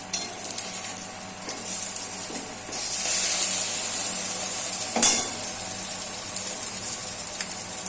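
An omelette frying in a hot pan, a steady close hiss and sizzle that swells louder midway, with occasional scraping stirs and a sharp spattering crackle, heard without any talk.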